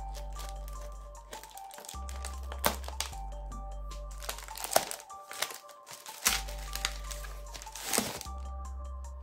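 Plastic bubble wrap from a fishing reel's packaging crinkles and crackles as it is handled and pulled apart, with steady close snaps over a low background hum.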